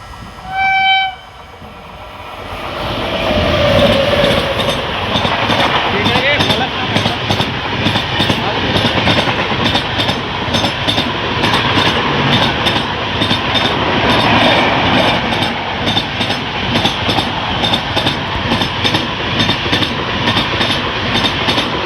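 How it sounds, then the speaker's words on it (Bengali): A long-distance superfast express pulls into a station, its horn sounding once at the start before a loud, steady rumble and rhythmic clatter of the wagons carries on throughout. "সময়ের থেকে পঁয়তাল্লিশ মিনিট রেটে এসে পৌঁছলো আমাদের ট্রেন"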